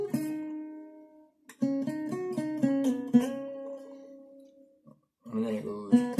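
Guitar riff from a song in a clean picked tone, a sustained opening note fading out, then a quick run of melodic notes held into a long tone, a brief pause, and the phrase returning.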